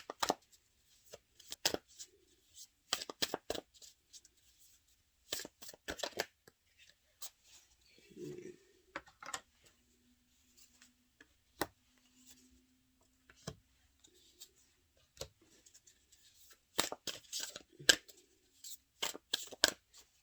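Tarot cards are cut and pulled from a deck in crisp, close bursts of shuffling snaps and slaps, separated by quiet pauses, with a brief murmur of voice in between.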